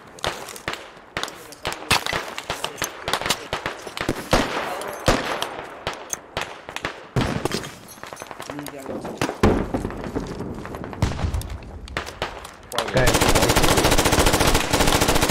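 Light machine gun fire rattles through a close-quarters video game battle, with rapid bursts and scattered gunshots over excited player chatter, ending in a loud, dense sustained roar.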